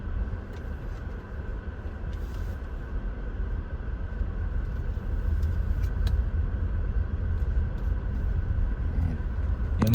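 Traffic on the main road of Solana, Zaragoza, a continuous low rumble of passing cars that swells slightly toward the end, with faint higher clicks and hiss and no voices.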